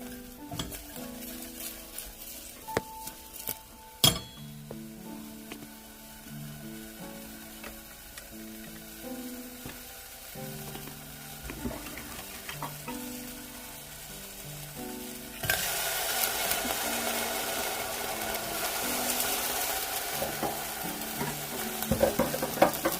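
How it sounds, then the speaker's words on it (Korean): Onion and green onion stir-frying in oil in a pan for a mushroom dish: a light sizzle with occasional utensil knocks over music, swelling into a loud, dense hiss for the final stretch. "양파 대파를 가볍게 볶겠습니다"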